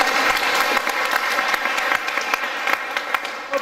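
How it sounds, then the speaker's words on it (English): An audience applauds after a card trick at a live magic show, a fairly loud burst of steady clapping with a few crisp individual claps standing out, holding for several seconds. "Give him a big round of applause."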